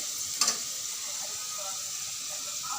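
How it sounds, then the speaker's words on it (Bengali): Potatoes sizzle steadily in hot oil while being fried until reddish-brown, a close, even hiss with a brief clatter near the start. "আলুটা ভাজা হয়ে যাচ্ছে, লাল লাল করে ভেজে নিব আলুটাকে।"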